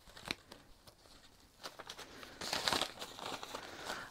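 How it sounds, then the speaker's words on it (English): Packaging crinkles in intermittent bursts while cross-stitch projects are handled nearby, soft at first and then a denser run of rustling toward the end. "if there's a lot of noises and crinkling and, you know, all the zippers and everything"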